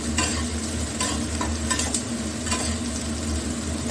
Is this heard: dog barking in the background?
no